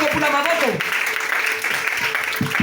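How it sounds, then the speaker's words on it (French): A French-speaking church congregation applauds during a service, a dense patter of hands that continues throughout under a voice speaking over it. "On acclame."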